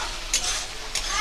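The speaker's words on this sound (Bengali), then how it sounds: "আমরা মশলাটা এইভাবে ভালো মতন কষিয়ে নিচ্ছি।" Spice masala frying in oil for a puti fish jhal, a soft steady sizzle close by with two brief scraping stirs.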